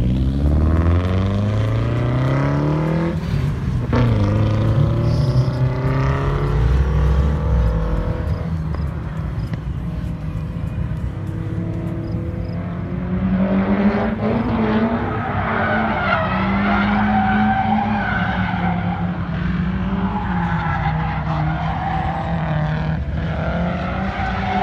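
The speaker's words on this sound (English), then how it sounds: "It's the first time he's ever drifted this car." A Nissan Kouki S14 drifts at a drift event, its engine revving and droning loudly as tires squeal and howl continuously through long slides, close and sustained for the whole stretch.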